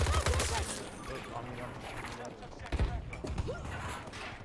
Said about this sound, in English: Hold on, I'm getting fucking shot.